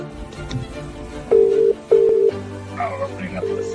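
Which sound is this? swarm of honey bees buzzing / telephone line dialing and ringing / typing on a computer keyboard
telephone line dialing and ringing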